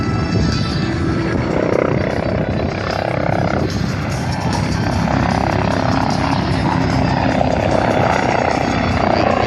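A loud, steady Red Bull helicopter drone with rotor chop continues throughout at an air show in Camarillo, close and unbroken, with no speech.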